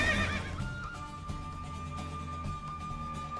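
A horse in The Witcher 3 video game whinnies loudly and clearly right after a race, a single bright neigh at the start that fades into a steady low game background.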